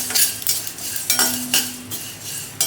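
Mustard seeds, coriander and cumin roasting in a pan over a low flame, with a spoon stirring and clinking against the metal in irregular taps and scrapes, fairly close, no voices.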